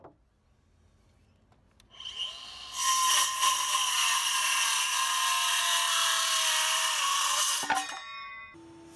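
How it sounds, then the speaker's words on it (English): Reclaimed hardwood decking timber fed through a jointer: the machine spools up, then a loud, steady cutting whine holds for several seconds before winding down abruptly. "I put the timber through the usual milling process, which starts at the joiner to get one flat surface."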